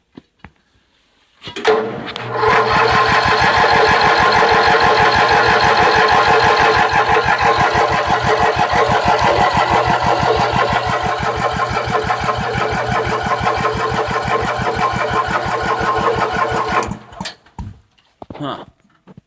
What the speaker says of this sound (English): V-twin, 18 horse, nice big engine.